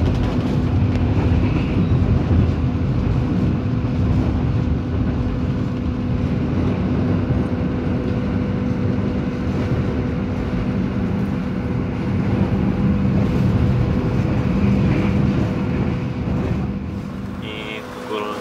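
The Mutiara Selatan passenger train rolls steadily along the rails, a loud continuous rumble with clattering wheels and a faint high whine, unbroken for the whole stretch.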